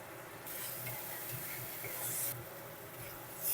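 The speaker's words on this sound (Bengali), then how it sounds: "মশলাটা কষে নিতে হবে যতক্ষণ না পর্যন্ত মশলা থেকে তেল ছাড়ছে ততক্ষণ মশলাটা ভালো করে কষে নিতে হবে" Spice paste (masala) frying in oil while being stirred: a close, steady sizzling hiss with scraping strokes that swell and fade, no voices.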